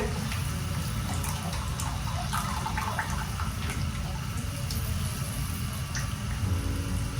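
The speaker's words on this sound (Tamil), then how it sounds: "புளித்தண்ணி போட்டு" Tamarind water is poured steadily into a Tamil fish curry in a continuous splashing trickle close by, with faint background noise and no speech.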